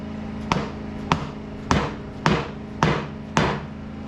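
Six evenly spaced heavy thuds as a dead blow hammer drives an outer CV joint onto the axle of a MK4 VW TDI clamped in a vise, close and sharp over a steady background hum.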